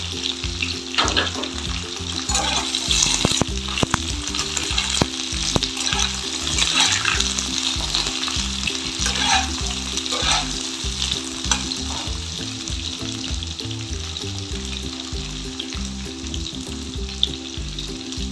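Potatoes sizzle steadily in hot oil in a pan while being stirred, with repeated scraping and clinking of the spatula, close and loud throughout with no talk.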